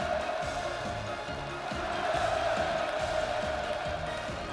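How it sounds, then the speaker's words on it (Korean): A large crowd roars in rhythmic, repeated 'manse' cheers at Kim Jong Un's arrival, a steady chanting wall of voices with a constant high hum over it. "폭풍 같은 만세 환호성이 하늘 땅을 진감했습니다"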